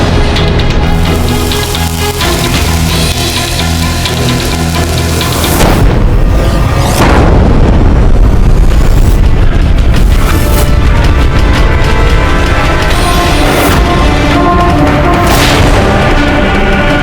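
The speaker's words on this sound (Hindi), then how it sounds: "शीघ्र निशाना लगाओ इस तोप पर, यही सबसे ज्यादा नुकसान कर रही है हमारा।" Cannon fire and explosions from a fortress battle at Chittor, loud booming blasts rolling over a dense roar, with heavy detonations bursting again and again through the second half.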